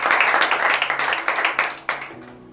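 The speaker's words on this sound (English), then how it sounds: "please another round of applause for welcoming our." An audience at a university debate competition claps in a brief, dense round of applause that thins into scattered individual claps before fading out.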